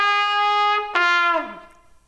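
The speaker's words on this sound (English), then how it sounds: "the trumpet often sounds out calls that seek a response in return" A trumpet sounds a short New Orleans second line call: one long held note, then a sharper second note that falls away in a downward smear, close and clear with no talking.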